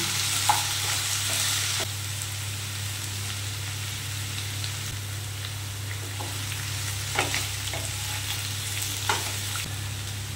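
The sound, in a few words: potatoes frying in a pan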